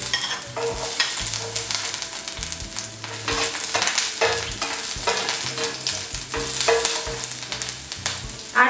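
Red and green chillies with chopped garlic frying in a tablespoon of white cooking oil in a frying pan, a steady close sizzle broken by repeated scraping and stirring strokes, with no talk.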